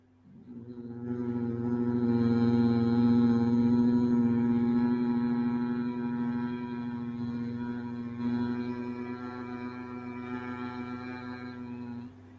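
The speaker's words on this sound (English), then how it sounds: "It is called a humming sound." A single sustained humming exhalation from pranayama breathing, a steady voiced drone that swells after a short intake and holds for about ten seconds before tapering, close and fairly loud with no talk.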